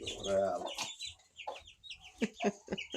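Guinea fowl and wild ducks call in a village yard, with a run of sharp, clucking bird cries in irregular bursts close by, some overlapping and separated by short pauses.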